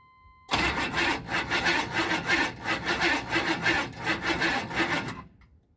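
A 6.2 diesel engine fitted with a Banks turbo cranks over without firing, a close, loud, steady grinding whir with a rhythmic pulse that lasts about five seconds before stopping, with no talking.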